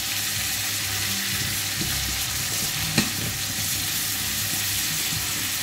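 Salsify roots browning in a frying pan give a steady, close sizzle and fry, with light stirring and utensil scrapes and one brief sharp tap midway, with no talking.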